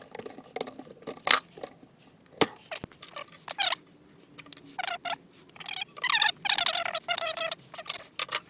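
A Hill hand shear bites through sheet metal for a Land Rover 110 sill repair. Close, irregular metallic clacks and snips come in bursts, with short grinding cuts and quiet gaps between them.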